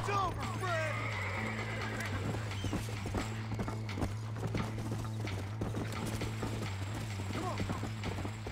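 A horse in the Red Dead Redemption video game, hooves clip-clopping in a steady rhythm with several sharp whinnies over a low constant hum, with a voice talking over it.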